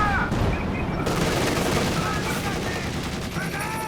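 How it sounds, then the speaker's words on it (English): Machine gun nest in Company of Heroes 2 firing steady bursts amid dense battlefield gunfire and explosions, loud and continuous, with faint voices in the mix. "So, an MG nest. It's going to take out my man."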